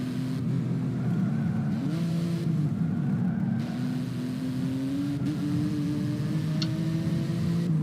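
A car engine hums steadily with shifting pitch as the vehicle is driven in an Xbox video game, its tone rising and falling slightly throughout, loud and continuous with no voices.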